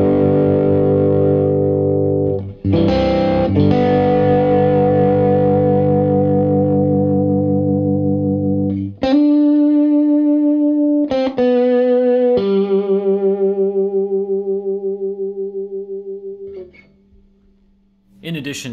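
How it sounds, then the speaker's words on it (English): Electric guitar run through a compressor pedal set to heavy compression into a Benson amp, long evenly sustained distorted chords and single notes that hold their volume before a final fade, loud and close with no talk. "So if I turned on a heap of compression, it would sound like this."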